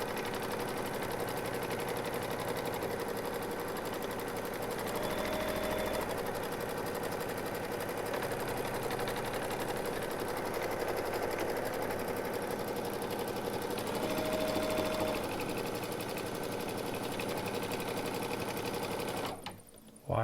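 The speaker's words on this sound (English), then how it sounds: "So now it is going to stitch down a tack down stitch." A Baby Lock embroidery machine sews an appliqué tack-down stitch through fabric over no-show mesh stabilizer, a steady fast mechanical whirring and needle chatter running continuously before stopping at the end, with a voice talking over it.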